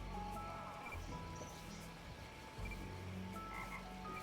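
Frog croaking in the video game Beasts of Maravilla Island, repeated close croaks over a steady ambient game background, fairly loud, with no talking.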